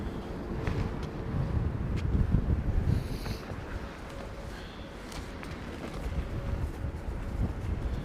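Gusty wind at London Heathrow Airport during Storm Darragh, a continuous rumbling roar buffeting the microphone, rising and easing without a break, with faint distant sounds underneath.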